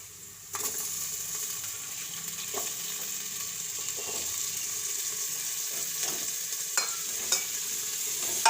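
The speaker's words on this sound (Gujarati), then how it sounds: "હવે આપણે ઘડીક બટેટાને સડવા દઈશું।" Potatoes and onions frying in a pan for spiced rice: a steady, moderately loud sizzle runs throughout, with occasional soft clicks and stirring knocks and no talking.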